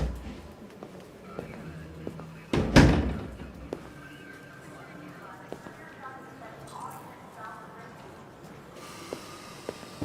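A door in Detroit: Become Human closing with a single sharp thud partway through, followed by quiet room tone with faint footsteps and a soft voice in the background.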